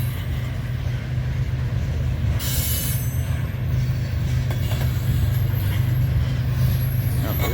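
A freight train with a rear DPU locomotive rolls past close by, with a steady low rumble of wagons, high wheel squeals and faint clicking from the rails.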